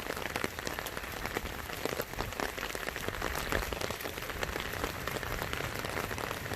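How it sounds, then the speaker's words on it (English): Steady rain patters across a dusty car's body, a dense, even hiss of drops with no voices, close and constant throughout. "It's not raining as hard, but when it rains hard, the water just glides off."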